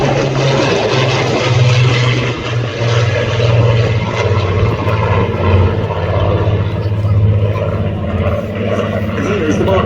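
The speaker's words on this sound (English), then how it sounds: "And here as the Mark 1A Spitfire breaks away from the lead of that formation" A Supermarine Spitfire Mark 1A breaks away from a formation at a Duxford Battle of Britain air show, its piston engine droning loud and steady with a propeller hum throughout.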